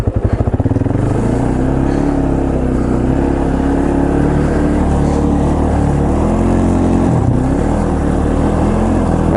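A 2005 Polaris Predator ATV, just back from a head gasket and valve replacement, revs hard and bogs when shifted up a gear, its engine roaring loud and close in one continuous drone.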